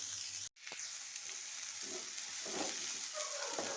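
Pumpkin peels frying in a hot pan over medium heat, a dense continuous sizzle heard close up, briefly cut by a short gap early on, then resuming with soft clinks and shuffles of stirring.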